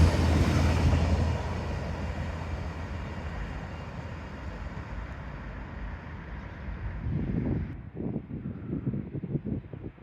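A train rumbles past with steady broadband roar and wind buffeting, then a rhythmic clatter of wheels on rail joints as the cars go by.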